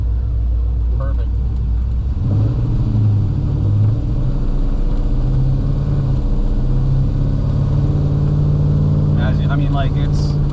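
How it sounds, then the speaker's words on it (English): A 1957 Chevrolet 210 Wagon engine idling at about 800 RPM, a steady low rumbling purr heard up close, with a person talking over it. "Nice little purr. We're idling right now about 800 RPMs."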